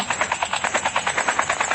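Helicopter in the Call of Duty Mobile video game, its rotor chopping in a steady rapid pulse throughout, loud and close, with game ambience and no speech.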